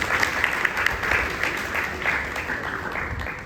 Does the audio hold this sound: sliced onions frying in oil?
no